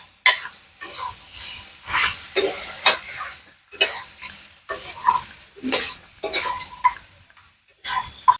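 Kashmiri chili powder being stirred into frying mutton for rogan josh, with repeated scraping strokes of a spoon against the pan over a steady sizzle, close and fairly loud, in rhythmic bursts.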